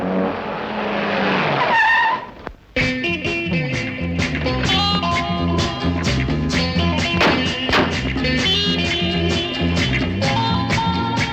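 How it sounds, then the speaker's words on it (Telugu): A car in a Telugu family drama film screeches its tires loudly for about two seconds, then the sound stops and music takes over. "నా కార్లో డ్రాప్ చేస్తాను రా విజయ్"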